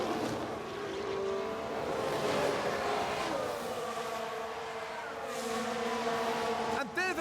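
Race cars roar past in an F1 Manager 2022 race at Jeddah, engines rising and falling as a Williams car overtakes, heard at moderate level beneath a commentator's voice.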